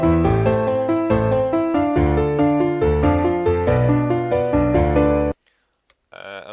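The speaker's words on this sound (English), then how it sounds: "I just made a melody with the Nexus Grand Piano and it sounds like this." Nexus Grand Piano plugin playing a melody with full chords and moving lines for about five seconds, then stopping abruptly before a brief voice comes in.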